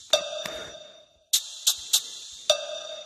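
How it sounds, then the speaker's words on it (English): A small shaker sound in an electronic music beat: a handful of crisp, bright percussive hits in an uneven pattern with short gaps between them, close and alone. "So we're going to have like a little shaking sound like this."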